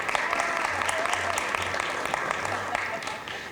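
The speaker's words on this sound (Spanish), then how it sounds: "Un aplauso también" An audience at a media and telecom industry conference applauds a panelist, a dense, even wash of clapping held for a few seconds at moderate distance, fading slightly at the end.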